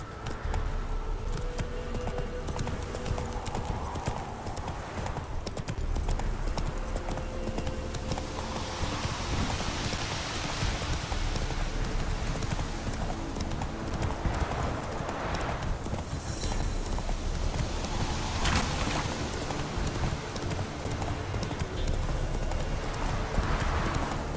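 Roach the horse gallops through The Witcher 3 in a steady, continuous clip-clop of hooves, with jingling tack and a dense background wash of ambient game sound.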